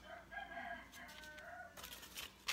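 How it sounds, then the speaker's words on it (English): A rooster crows faintly in the distance, one drawn-out cock-a-doodle-doo heard alone with no talk over it. "You hear the rooster?"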